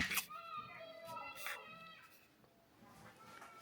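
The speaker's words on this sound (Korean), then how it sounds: "여기에서 맨날 애기들이 노는 소리가 다 들려요." Children's voices play and call out at a distance, high squeals rising over a faint background hum.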